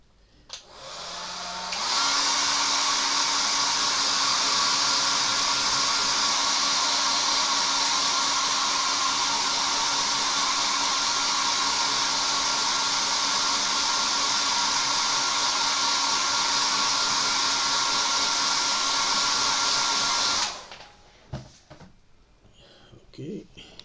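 A hair dryer blows steadily for about twenty seconds, loud and close, drying paint on a 1/72 Zvezda Kamov-50 plastic model kit, then clicks off.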